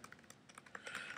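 Fast typing on a computer keyboard, a quick run of light key clicks close to the microphone, quiet and steady throughout.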